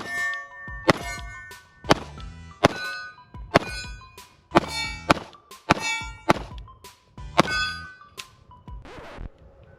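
A Sig 229 Pro Cut 3.9 pistol fires at steel targets, producing about ten sharp, ringing metallic clangs spaced roughly a second apart, each hit decaying quickly into near silence.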